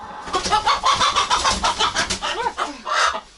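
A rooster clucks rapidly in a quick, agitated series of loud close calls while being caught, with a few squawks near the end.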